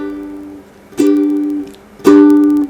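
Two forceful downstrokes on a ukulele, each a sharp bright attack that rings out for about half a second, played alone and close.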